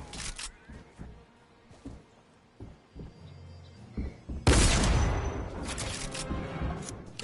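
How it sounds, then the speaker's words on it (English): Shotgun fire in a video game, sharp percussive blasts with a big, booming burst near the end that rings out, among scattered thumps and quieter action noises. "That shotgun sounds intimidating"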